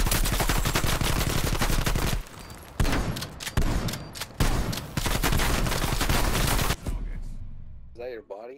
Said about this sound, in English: I'm gonna shoot his body for fun